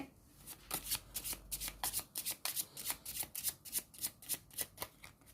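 Playing cards shuffled close up for the two-player card game Jekyll vs Hyde: a steady run of soft, rapid riffling bursts and papery flicks repeating in quick rhythm, with no talking.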